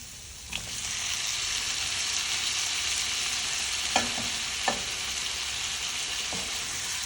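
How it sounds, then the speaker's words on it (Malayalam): Cooked pork sizzles and fries in a pan with tomatoes and masala, a steady loud crackling hiss broken by a few sharp clicks of a spoon stirring against the pan, with no voices. "തക്കാളി നല്ലോണം വെന്ത് കഴിയുമ്പോൾ നമ്മൾ വേവിച്ച് വെച്ചിരിക്കുന്ന പോർക്ക് ആഡ് ചെയ്ത് കൊടുക്കുക."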